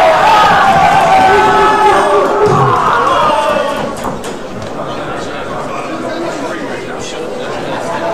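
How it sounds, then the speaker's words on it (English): Spectators packed into a snooker club murmur and cheer for a local player during a money match, a loud, dense swell of chatter and raised voices that eases off partway through. "There's a good crowd in here at Snooks now that have come to cheer Charlie on"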